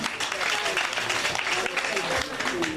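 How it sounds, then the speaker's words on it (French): A church congregation applauds and acclaims the Lord in sustained, dense clapping that fills the room, with voices calling out over the applause. "Ok, on acclame le Seigneur."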